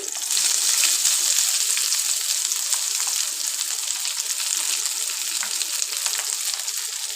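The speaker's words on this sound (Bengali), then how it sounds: "রসুন এখন আমি ভালোভাবে নেড়ে চেড়ে নেব আমি তিন চার মিনিট ভেজে নেওয়ার পর" Chopped onion and garlic frying in a pan, a steady close sizzle with faint scraping from stirring, unbroken and without talk.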